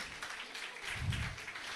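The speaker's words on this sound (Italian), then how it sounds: "Un applauso." Crowd applause greets a singing contestant stepping up at a local song festival semifinal, a soft, steady wash of clapping heard from a distance with no talk over it.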